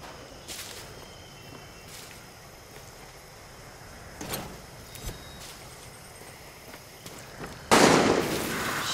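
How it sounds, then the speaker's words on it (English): Gunfire in the video game Far Cry 6 comes as scattered sharp cracks, some distant and some nearer, over a quiet background, ending in a louder sustained burst. "Shit, who's shooting?"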